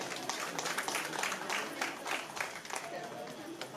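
An audience at a live Punjabi music show in Nawanshahr claps and cheers, dense applause rolling on throughout, moderately loud and unbroken.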